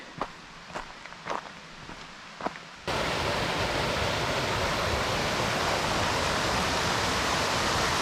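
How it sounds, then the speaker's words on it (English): A few footsteps on a hiking trail give way abruptly to a small waterfall's steady, loud broadband rush that fills the rest of the clip, close by and unbroken. "We just got to the little waterfall."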